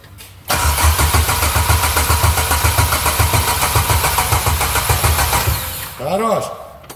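A ZMZ 409 engine in a GAZelle Sobol van cranks and fires up, running loud and rough with a steady rhythmic pulse for several seconds before settling, with voices talking near the end.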